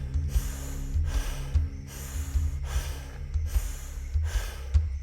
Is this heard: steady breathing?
yes